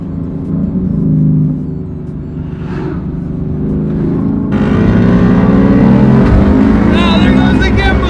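A car engine idles, then climbs sharply to a high, loud revving whine near 8,000 RPM, with wind and road roar close by.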